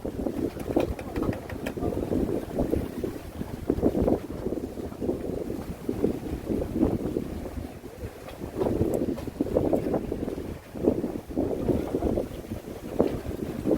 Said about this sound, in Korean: 오늘은 바람이 좀 많이 불고요